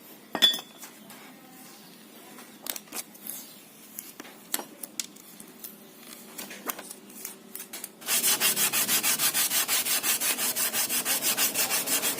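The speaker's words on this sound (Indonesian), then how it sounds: "lalu kita amplas ya" Clicks and light scraping, then steady rhythmic rubbing of sandpaper on wood, a dense rasping back-and-forth that continues close and loud.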